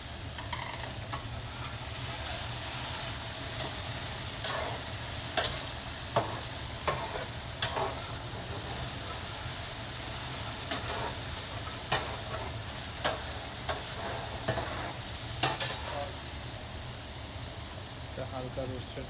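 Potatoes roast in a pan for Kerala-style poha, giving a steady, even sizzle. Sharp spoon clicks and scrapes against the pan come every second or two as they are stirred.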